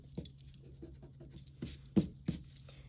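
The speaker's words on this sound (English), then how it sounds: "Erase my excess lines." A pencil eraser rubs out excess lines on paper, quiet scratchy strokes in short uneven bursts with a few sharper scrubs near the end, close and soft.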